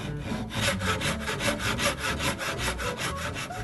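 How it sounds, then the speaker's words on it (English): Dovetail saw cutting a slot in wood for a butterfly key reinforcing a miter joint, heard as steady rhythmic back-and-forth rasping strokes, close and clear, about a dozen strokes with no talk. "Use a dovetail saw and then a coping saw to remove the waste."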